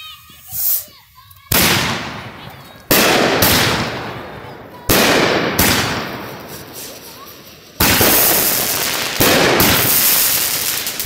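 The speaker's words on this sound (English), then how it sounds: "10 shot Firebase Alpha Phantom." A Phantom Firebase Alpha 10-shot firework cake, 200 grams, fires outdoors as a series of loud sharp bangs spaced a second or two apart, each followed by crackling decay, with a short voice at the start.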